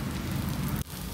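Tomato dosa sizzling on a hot pan as oil is poured around it, a steady close crackling hiss that briefly drops out near the end before resuming.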